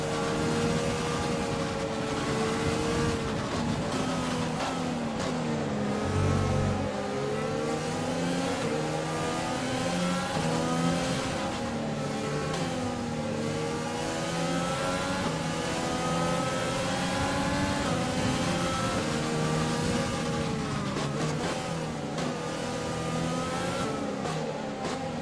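F1 race car engines screaming at a Spanish Grand Prix start in a racing video game, a loud continuous high-pitched wail with rising and falling revs and gear shifts, several cars blending together over the whole stretch.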